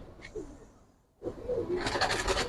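Military pigeons, a large heavy breed, coo softly nearby, a brief call first, then a pause and a fuller burst of cooing with rustling.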